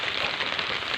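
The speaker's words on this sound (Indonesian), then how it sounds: "Ini hujan." Rain falls in a steady, dense hiss of drops spattering on surfaces, even and unbroken throughout with no voices.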